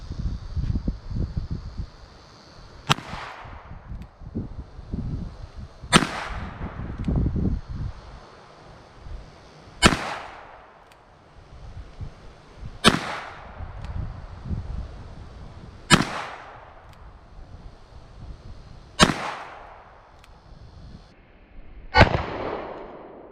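Seven sharp, loud gunshots ring out at steady intervals of about three seconds from a Taurus Tracker Model 627 .357 Magnum revolver, each crack trailing off quickly, with wind noise and rustling between shots.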